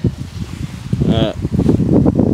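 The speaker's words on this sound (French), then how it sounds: "Il était prévu que le vent se lève, ça y est, il arrive le bougre." Gusty wind picks up beside a mountain river at a carp fishing spot, a rough rushing roar buffeting the microphone in uneven surges throughout, loud and close.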